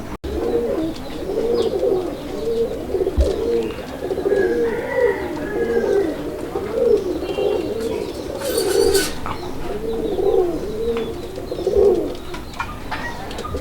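Pigeons for sale coo steadily in a low, throaty rhythm, several birds overlapping close by, with a brief flutter or rustle partway through and no talking.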